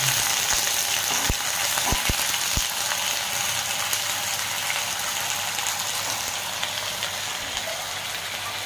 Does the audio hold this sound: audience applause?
no